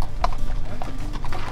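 Horse hooves clip-clop in a brisk, uneven rhythm during a guided horse ride in Creel, Mexico, with the steps loud and close throughout the short stretch.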